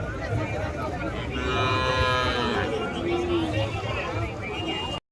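Cattle lowing at a native cattle market in Tirupattur, several drawn-out moos rising over a constant murmur of crowd chatter and livestock bustle.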